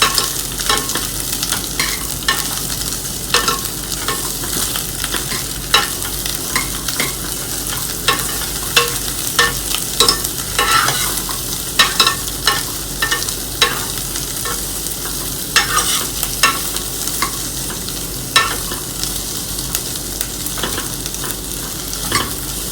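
Beetroot and carrot are stirred in a hot pan for soup, with a constant sizzle beneath frequent spoon scrapes and taps that keep coming irregularly and close throughout.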